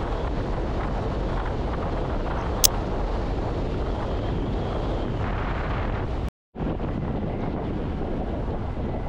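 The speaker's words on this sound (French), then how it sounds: "on n'entend que le vent, pour ainsi dire" Wind roars over the microphone while riding a 2024 Rider 5000W 125-class electric scooter, a loud, constant broadband rush with no motor whine, cut by a brief dropout to silence.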